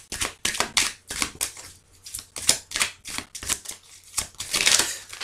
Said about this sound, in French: je vais quand même remettre une carte ici.